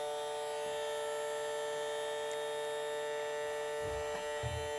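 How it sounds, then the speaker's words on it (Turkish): A Miele-brand toy vacuum cleaner runs with a steady, even electric hum that holds unchanged close by, with a few soft knocks near the end. "Gerçek süpürge gibi mi çıkıyormuş sesi?"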